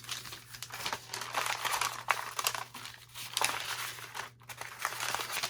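Decorative paper is folded and creased by hand into a paper bag, giving close, continuous crinkling and rustling in uneven bursts.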